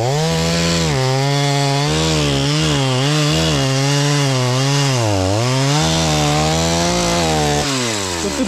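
A chainsaw bites through a felled tree in a forest: a loud, close, continuous buzzing drone that dips and recovers in pitch as the chain loads in the wood, with no talk.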